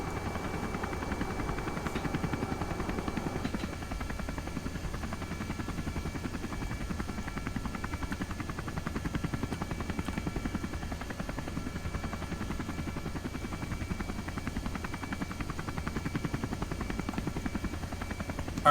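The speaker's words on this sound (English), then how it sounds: "So, I'm gonna land this helo down." A helicopter in the spaceflight game Kerbal Space Program, running with a steady rotor drone and whine through its landing approach. The sound is continuous and fairly loud, with no talk over it.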